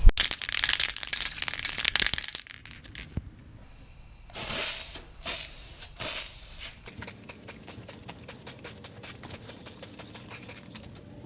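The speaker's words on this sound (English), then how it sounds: "you are ready to start painting and getting your first coat of primer / paint on your wheels" Rust-Oleum primer sprayed onto a Honda Civic Si wheel, heard as repeated loud hissing bursts with short gaps between them, followed by a steadier run of quick spray pulses near the microphone.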